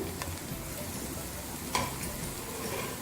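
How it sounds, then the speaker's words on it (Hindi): Fried okra tumbles into sizzling masala in a pan, a steady close hiss with a sharp clatter partway through as it lands. "अब इसमें भिंडियाँ शामिल करेंगे जो हमने फ्राई की थी।"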